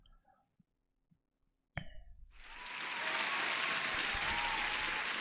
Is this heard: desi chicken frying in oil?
no